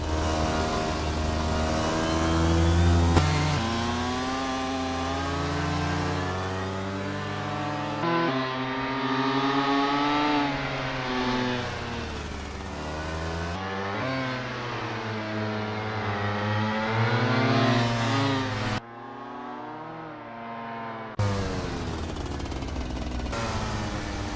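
Honda 390 2T two-stroke karts warm up at the Karelia Cross track in Assetto Corsa, their engines droning steadily and loudly, rising and falling in pitch as they rev, with several abrupt shifts between engine sounds and no talking.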